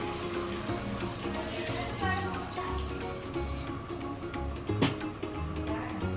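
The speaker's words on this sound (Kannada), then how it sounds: "ನೀರು ಹಾಕ್ತೀನಿ ಏಕೆ" Water is poured into a pot of village-style country chicken sambar, a continuous gentle splashing pour with faint kitchen clatter and a single sharp knock near the end.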